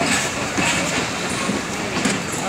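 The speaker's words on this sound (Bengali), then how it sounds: "এই যে ট্রেন আছে" A train rumbling through the Rajbari level crossing, a dense, loud and steady roar of wheels and carriages close by, with no clear talking.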